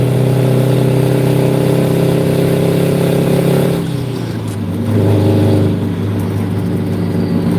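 Loaded dump truck engine in a video game, a steady, loud mid-pitched drone that dips briefly in load and pitch partway through, then climbs back and holds alone.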